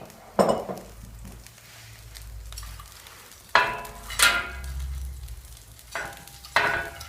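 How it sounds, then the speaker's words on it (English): Prawns and crayfish frying in a pan for a seafood paella, with steady sizzling, stirring scrapes and occasional clinks of utensils against the pan, close and moderately loud. "we always start frying the seafood a little bit and we take it out afterwards"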